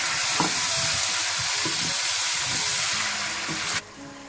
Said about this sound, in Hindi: साथ ही आप अदरक लहसुन पिसा हुआ भी डाल दें, अच्छी तरह से मिक्स कर लें।